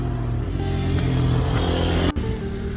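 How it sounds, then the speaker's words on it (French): A motorcycle rides past a Seat Leon FR 2.0 235 hp, its engine a steady loud drone that swells and fades before dropping off abruptly near the end. "Le frérot qui passe en moto,"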